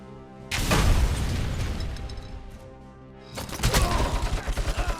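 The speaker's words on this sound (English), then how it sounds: "I just shot the grenade." A grenade fired and blowing up in the Robocop Rogue City shooter game, a loud booming blast followed by a long rumbling decay, then a second burst of crackling gunfire-like impacts.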